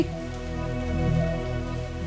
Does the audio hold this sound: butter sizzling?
no